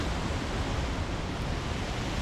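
Ocean surf pounds the shore at a cove at Milolii on the Big Island, a continuous broadband roar of breaking white water, steady and loud without distinct wave peaks or voices.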